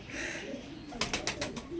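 Pigeons cooing at close range in a home loft, a soft low coo at the start followed by a brief burst of wing flutters or calls, faint overall.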